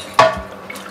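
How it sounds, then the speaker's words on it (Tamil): Medium-hot water poured into a cast iron pan in a kitchen sink, one short close splash with a burst of running water that quickly settles into a faint trickle. "மீடியம் ஹாட் வாட்டரில் ஃபுல்லாக ஊற்றிடுவேன்"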